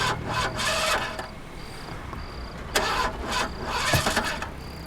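A car that has broken down on the road at 2 a.m. is cranked over and over. Several harsh bursts of the starter whir in an uneven rhythm, and the engine never catches.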